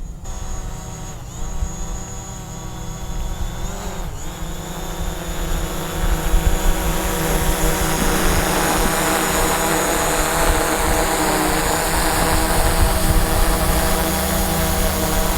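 A DJI Mavic Pro drone fitted with LED low-noise propellers flies nearby, producing a loud, steady high-pitched whirring buzz that shifts in pitch as it maneuvers, with no voices.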